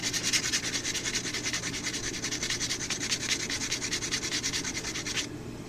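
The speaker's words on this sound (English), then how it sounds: "Give that tip a good sanding." Steady rhythmic sanding of the tip of a steel cold chisel, a gritty back-and-forth scraping repeated briskly and close, stopping abruptly near the end.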